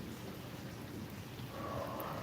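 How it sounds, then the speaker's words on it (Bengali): Light night drizzle in Rampura, Dhaka, a soft steady hiss of fine rain that stays even and fairly faint throughout, with no voices. "এখানে ঝিরিঝিরি বৃষ্টি মানে হালকা হালকা বৃষ্টি হইতেছে"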